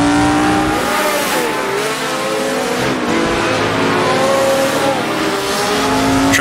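A vintage racing car in a racing sim game roars loudly and continuously, its engine pitch dropping and climbing as it downshifts to second gear through a corner and accelerates out, with faint tyre noise underneath.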